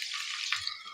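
Chopped onions dropped into hot white oil in a frying pan, giving a bright, steady hiss with a soft thump as they land, close and fairly quiet, with no talking.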